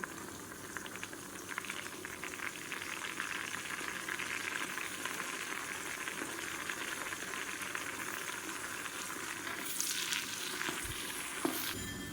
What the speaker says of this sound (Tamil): இப்போ வெங்காயம் வதங்கிட்டு இருக்கு